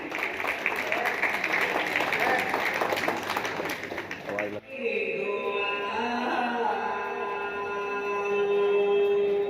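An audience at a film-release press conference claps loudly for several seconds, then the applause cuts off and gives way to steady music.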